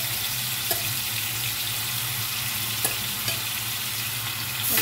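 Boneless marinated meat fries in a pan on a stove, giving a steady close sizzle with a few sharp clicks and pops of spattering fat and utensil taps.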